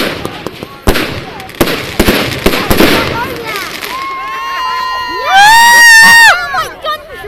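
Fireworks at a public display bang in a rapid series of sharp, loud blasts, then give way to shrill rising whistles as the crowd shouts and cheers around them.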